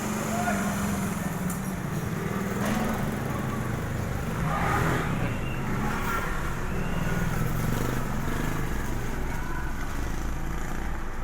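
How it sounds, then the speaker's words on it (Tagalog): A Suzuki Celerio's engine with a fault that makes it stall and hunt at idle runs with a steady, rough drone close by, while someone talks over it. "Namamatay-matay ang makina pag ano, tas bigla na lang nagpabago-bago yung minor niya."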